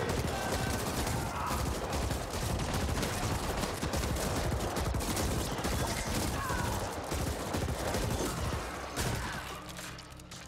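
Sustained, dense gunfire from the video game The Ascent: rapid overlapping bursts and automatic fire, loud and close, continuing without a break for the whole stretch with no talking.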